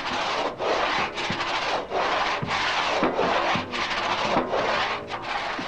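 Hand saw cutting a wooden plank at a sawing station, with slow, careful rasping strokes in a steady back-and-forth rhythm, close and fairly loud, with no voices.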